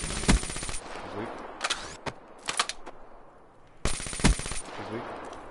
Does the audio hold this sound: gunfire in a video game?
yes